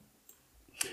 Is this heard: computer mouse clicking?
yes